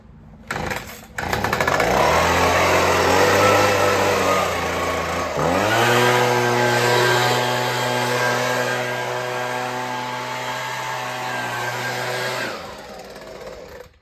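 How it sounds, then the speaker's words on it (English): Husqvarna 125B handheld leaf blower's small two-stroke engine after an impeller repair, sputtering to life, then rising in pitch and revving to a steady, loud whine as the throttle changes before cutting off near the end. "There she goes. It's blowing how it's supposed to."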